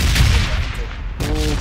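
Sniper fire in the mobile battle-royale game PUBG Mobile, heard as a few sharp, loud cracks with a pause in between, mixed under game sounds and a little talk.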